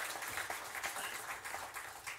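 A church congregation applauds during a Sunday service, a steady patter of many hands clapping at moderate volume, continuous and even throughout without voices on top.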